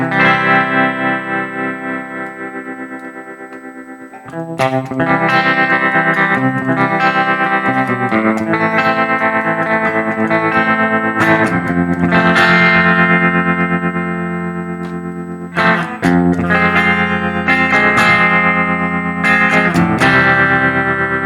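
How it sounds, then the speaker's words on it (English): An electric guitar played through a Harley Benton DNAfx Git pro multi-effects unit with chorus and tremolo on, giving sustained shimmering chords and notes with a wavering modulated wash, loud and continuous with no talking. "Chorus to turn on. Okay, maybe with a little bit of tremolo."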